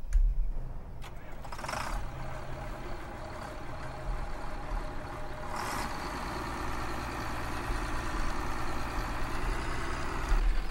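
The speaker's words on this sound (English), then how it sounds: "it actually starts the engine, and then it'll rev the RPMs up, and then it'll start working" A John Deere 4760 tractor in Farming Simulator 17 cranks and starts, then settles into a steady low engine drone that keeps running at an even level, heard alone.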